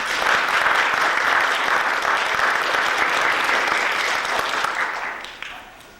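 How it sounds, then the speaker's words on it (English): Steady, dense applause from a large audience of children at a symposium greeting a guest speaker, loud and continuous for several seconds before tapering off near the end. "Mr. Keith, you need to stand up so the kids can give you a round of applause"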